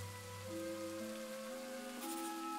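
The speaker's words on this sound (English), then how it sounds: "The rain does not lessen." Steady rain falling in an audio drama scene at dawn on a downhill path toward a village, a constant soft hiss under low musical drones, with no voices.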